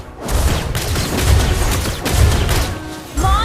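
Rapid bursts of gunfire and booming hits from a mobile MOBA battle game, dense and continuous with crash-like impacts, loud and close, with a short synthetic game tone near the end.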